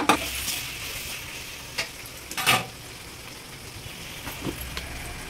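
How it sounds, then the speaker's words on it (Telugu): A spoon stirs ginger-garlic paste and ground coriander into an egg noodle mixture in a pan, with a soft continuous sizzle broken by a few scraping, clinking strokes. "1 చెంచా అల్లం వెల్లిపాయ పేస్టు, ఇవన్నీ వేసుకొని ఒకసారి కలుపుకోవాలి"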